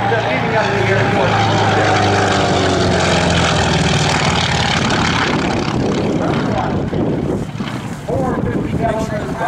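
An FM-2/F4F Wildcat propeller fighter flies at the 2011 Fort Worth Alliance Airshow. Its engine drones loudly and continuously, with heavy wind buffeting on the microphone and an announcer's voice over the top.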